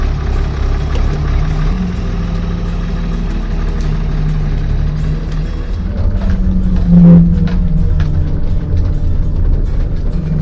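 A heavy RV bus engine idles steadily with a deep, continuous low rumble, swelling slightly partway through before settling, heard up close with no talk over it.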